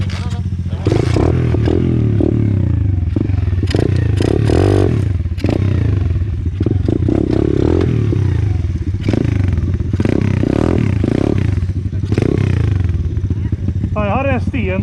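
A pit bike motorcycle engine runs loud and close, revving up and down with rough clattering, while people talk over it.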